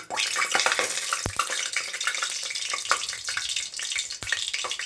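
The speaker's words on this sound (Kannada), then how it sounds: "ಈರುಳ್ಳಿ ಹಾಕ್ತಾಯಿದ್ದೀನಿ" Onions dropped into hot oil with bay leaves for pulao, hissing and crackling steadily at close range with a few sharp stirring knocks against the pan.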